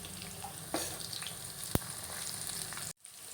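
Onions deep frying in oil for egg biryani, a steady close crackling sizzle with occasional stirring clicks, cutting out briefly near the end before resuming.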